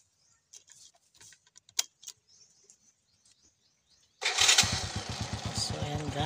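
A Honda XRM 110 motorcycle fitted with a racing CDI converted to battery drive starts up after some faint clicks and handling noises, then idles loud and close with a steady, throbbing engine note.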